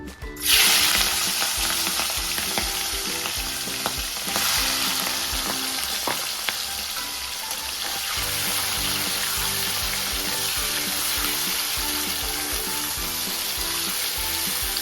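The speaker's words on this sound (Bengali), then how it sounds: "এবারে চিংড়ি মাছগুলো দিয়ে ভেজে নেবো" Prawns frying in hot oil in a pan for a Bengali prawn malai curry, a loud steady sizzle throughout with a brief hiss at the start and occasional soft clinks and stirring scrapes.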